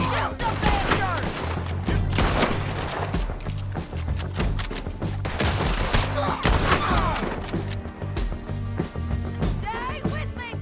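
Repeated loud gunshots crack in Red Dead Redemption 2 amid a chaotic shootout, irregular bursts over rumbling background noise, with voices shouting between shots.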